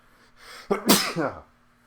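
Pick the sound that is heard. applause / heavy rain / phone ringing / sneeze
sneeze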